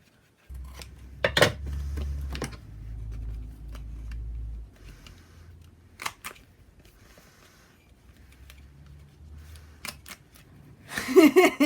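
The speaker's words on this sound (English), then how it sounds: "I'm going to use my trimmer to just cut this square" A paper trimmer cuts a square of paper for a handmade tag book, with a few sharp clicks and short slicing scrapes separated by quiet handling, ending in a brief rustle.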